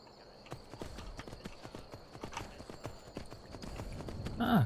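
Horse hooves clip-clop steadily in Skyrim, a brisk, even rhythm of distinct strikes running throughout, growing louder toward the end.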